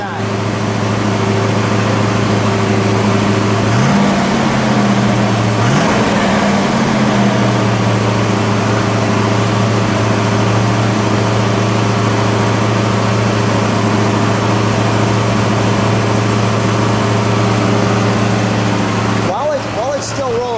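A green 1970 Mercury Cougar Eliminator with a Boss 302 V8 sits at a loud, steady high idle up close, with two quick rev blips early on before it settles back to an even rumble.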